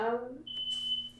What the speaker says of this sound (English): that's just my fire alarm going off.